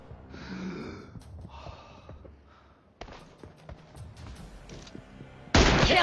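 Gunfire in a 1v1 team deathmatch shooting video game comes as an abrupt burst midway and a loud, harsh blast at the end, with breathy, quiet game sounds in between.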